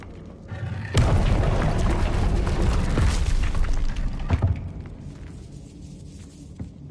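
A Confringo blasting spell in Hogwarts Legacy erupts as a sudden loud boom, followed by a sustained rumbling, crackling blast that slowly fades over several seconds.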